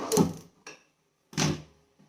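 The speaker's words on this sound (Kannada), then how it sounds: "ಸ್ಟವ್ ಆನ್ ಮಾಡಿಬಿಟ್ಟು ಒಂದು ಕುಕ್ಕರನ್ನು ಇಟ್ಕೊಂಡಿದ್ದೀನಿ." A pressure cooker is set down on a stove with a few sharp, close metallic clunks, each separated by short pauses.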